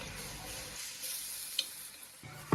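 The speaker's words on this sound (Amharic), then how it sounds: "በመጀመሪያ ሽንኩርቴን በዘይት ነው የምጠብሰው።" Onions frying in oil, a soft, steady sizzle with a couple of brief clicks of a utensil near the end, fairly quiet and without speech.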